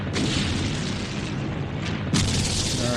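Artillery explosions in the Nations at War Digital video game, a dense continuous rumbling boom lasting throughout with a sharper, louder burst near the end, no talking.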